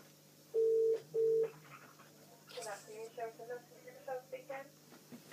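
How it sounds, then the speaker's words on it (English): Two long, steady telephone ringback tones sound on a call line, each about half a second and clearly separated, followed by voices talking over the phone connection. "Right, I'm ringing them."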